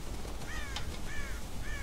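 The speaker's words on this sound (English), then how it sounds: "God damn crows!" Crows in the Red Dead Redemption video game give three harsh caws spaced through the moment, moderately close, over a low outdoor background rumble.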